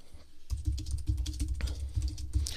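A clicky keyboard used with an iPad for typing a note: a steady run of crisp key clicks at a moderate pace, close and fairly quiet, with no talking.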